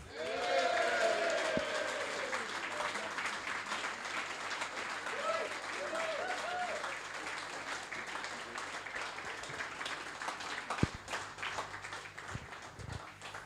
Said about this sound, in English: League table must look good for that sort of applause.